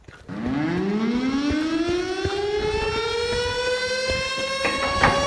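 A civil defense siren wails steadily in the mountains, its rising tone climbing then holding loud and sustained, with no voices over it.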